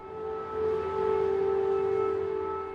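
An air raid siren wails over a Ukrainian town, a steady sustained tone swelling slightly and then fading, heard at a distance and moderately loud.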